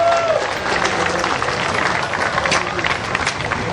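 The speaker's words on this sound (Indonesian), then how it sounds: "Mohon tepuk tangan." A crowd applauds steadily at a White Cane Day ceremony in Jakarta, dense clapping with some background chatter mixed in, sustained throughout at a fairly loud level.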